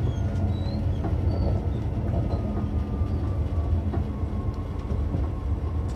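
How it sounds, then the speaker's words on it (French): A TER Normandie regional train slows into Trouville-Deauville station, heard from on board as a steady, fairly loud rolling rumble with faint rail clatter and no talking. "nous allons entrer en gare de Trouville-Deauville"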